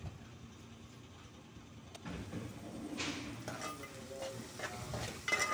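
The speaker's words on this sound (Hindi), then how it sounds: "टमाटर को कुछ देर के लिए हम हल्का सा भून लेंगे" Chopped tomatoes hit hot fried onions in a pan for egg bhurji, starting a soft sizzle that builds after a clatter, with stirring scrapes and light metallic knocks over the frying hiss.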